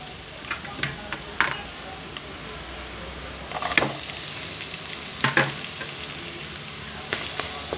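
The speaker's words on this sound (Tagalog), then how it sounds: "Mix na natin itong ginger saka yung bawang sibuyas." Ginger, garlic and onion frying in a pan while being stirred, a steady sizzle broken by several distinct scraping and clattering spatula strokes, close and fairly loud.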